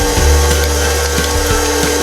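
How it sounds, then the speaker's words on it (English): A stand mixer with its whisk attachment beats butter, sugar and lemon zest, producing a loud, steady motor hum with soft rhythmic ticking as the whisk turns. "we're gonna put on the whisk attachment and whisk that until it's nicely combined"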